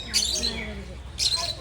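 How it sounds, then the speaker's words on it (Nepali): Lovebirds at a zoo chirp in two short, bright bursts a second apart, with a steady low hum of the surroundings underneath. "लभ बर्ड भन्दो रहेछ"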